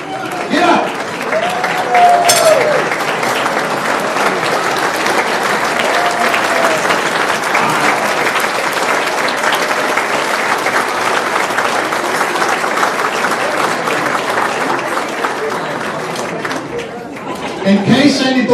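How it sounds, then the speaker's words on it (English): A crowd at a Lions Club district awards event gives a long, loud round of applause that lasts throughout, with chatter and a few shouts mixed in before it fades at the end. "All non-Lions and nominees, get up and give yourself a round of applause."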